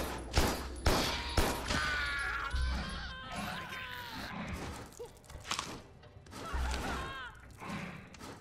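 Bursts of gunfire from enemies shooting at the player in the video game Carrion, sharp repeated cracks and thuds mixed with wet creature sounds and game effects.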